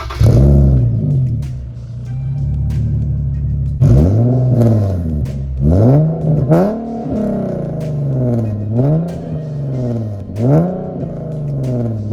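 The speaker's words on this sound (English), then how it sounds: "So yeah, that's how the exhaust sounds." A Nissan 370Z Nismo with a full Greddy exhaust revs repeatedly, rising and falling in loud throaty bursts over a rumbling idle, close by and with no talking.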